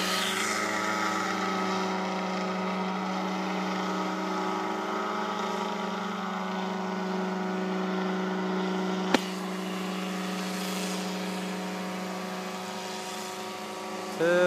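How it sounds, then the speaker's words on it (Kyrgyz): A remote-controlled helicopter sprays a rice field, its steady rotor and motor drone holding loud and unbroken throughout, with a sharp click near the end. "Вертолет менен."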